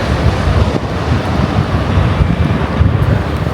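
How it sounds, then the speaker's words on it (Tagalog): Strong wind in Taiwan buffeting the microphone, a loud, continuous rumbling roar with no voices. "Tapos medyo mahangin."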